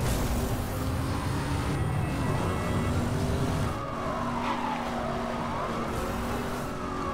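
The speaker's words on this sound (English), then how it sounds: "Get in here with a nice little drift as well, or a nice big drift" A car drifting in Need For Speed Hot Pursuit (2010) roars loudly with an engine drone, and its tires squeal in sliding whines that rise and fall through the second half. No one speaks.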